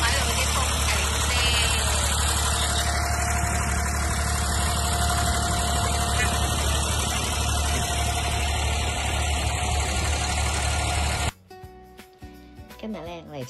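A boat's engine on a trip around Old Dubai drones steadily and close at a mid pitch with a slight vibration. It runs for about eleven seconds, then cuts away to quieter, different sounds.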